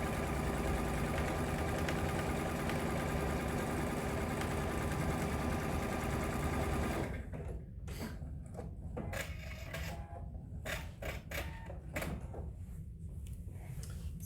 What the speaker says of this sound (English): now I'm just sewing that 1/4 inch from that original stitching line